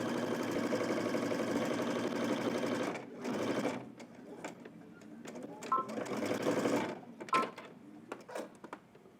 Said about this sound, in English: We're going to stitch that 1/2 inch fold up